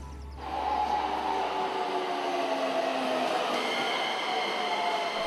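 A commuter train rumbles along with a steady, broad rolling roar and faint tonal whine, heard from inside or close by without a break.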